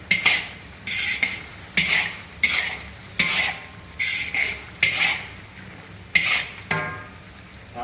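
A utensil stirs chopped carrots and chicken in a cooking pan, sending about a dozen rhythmic, fairly loud scraping strokes, evenly spaced, with no talk.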